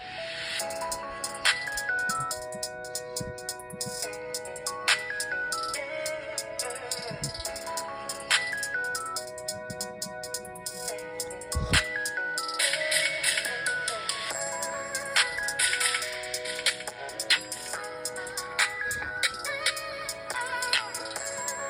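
A bright electronic ringtone melody plays continuously at maximum volume through the small, tinny speaker of a seventh-generation iPod touch, its repeating note patterns slightly harsh and buzzy, with no voices.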